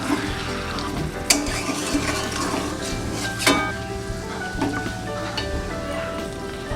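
Meat for kosha mangsho is stirred in an oily pan, a steady close sizzle and fry with scraping strokes and occasional sharper knocks of the utensil against the metal, and faint talk now and then.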